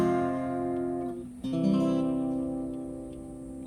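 Acoustic guitar strums a 1-5-1 turnaround in a country cowboy style, three sustained chords ringing clearly and alone, the second change arriving after a short pause.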